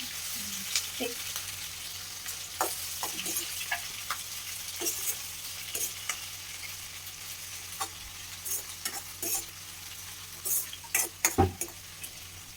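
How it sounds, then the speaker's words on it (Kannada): Chopped onions spluttering in hot oil in a pan for egg sambar, a continuous low sizzle broken by scattered sharp pops and the scrape of a spoon stirring, close and moderately quiet. "ಈರುಳ್ಳಿ ಹಾಕಿ ಅದು ಸಿಡಿಯುತ್ತೆ ಮತ್ತೆ ಆಮೇಲೆ ಸಿಡಿಯುತ್ತಾದ್ರೆ ಲೋ ಫ್ಲೇಮಲ್ಲಿ ಇಟ್ಕೊಳ್ಳಿ ಚೆನ್ನಾಗಿ ಫ್ರೈ ಮಾಡಿ"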